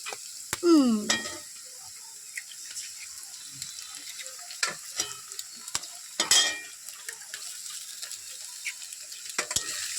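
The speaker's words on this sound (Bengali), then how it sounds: "তো চলো ডিমগুলোকে এর সাথে মিক্সড করি।" Eggs being stirred into vegetables in a pan for a Sunday morning tiffin, with a clear scraping stir near the start, a burst of sizzle midway and scattered utensil clicks over a quiet background.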